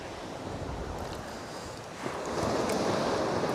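Wind roars across the microphone over steady sea and surf noise on the Northumberland coast, growing noticeably louder toward the end.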